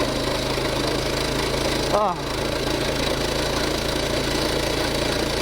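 A mini bike engine on studded tires running at wide open throttle on ice, a steady close buzzing drone with one brief rising whine midway, while someone talks over it.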